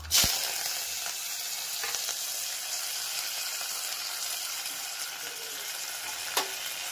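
Mustard seeds, cumin, green chilies, coriander and curry leaves fry in hot oil for a Bombay chutney for dosa, with a loud, dense, steady sizzle close by, a sharp burst at the start and a few faint clinks.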